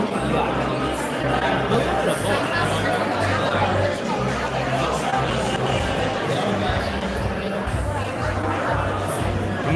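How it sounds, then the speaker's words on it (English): A large audience gathers at an evening show with La Toya Jackson, night two, and its crowd chatter forms a dense, steady babble of many overlapping voices, close and continuous. "It's a pretty big crowd again."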